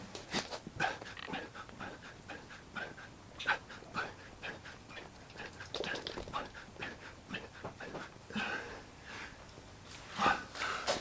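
A dog pants and sniffs close by in quick, irregular bursts, with occasional soft whimpers and snorts.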